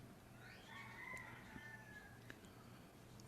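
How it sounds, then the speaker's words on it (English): A rooster crows once, a faint, drawn-out call over a quiet background hum, sounding some distance away. "Oh yeah, Rooster's in a mood"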